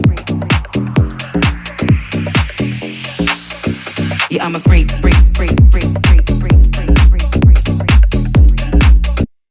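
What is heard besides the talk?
minimal tech track music playing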